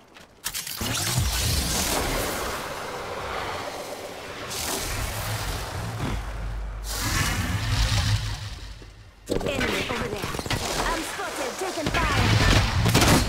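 Gunfire in the battle game Apex Legends, dense bursts and booming shots filling most of the stretch with brief lulls, loud and close, with voices talking over the fight.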